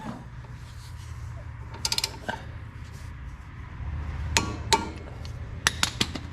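A torque wrench tightens bolts on a John Deere 750 drill's disc openers, giving several sharp metallic clicks and clinks in short clusters over a low steady hum, close and fairly faint.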